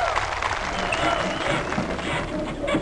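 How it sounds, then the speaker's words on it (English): Dense, steady applause and cheering from a crowd, loud and continuous throughout with no pauses. "Applause, please!"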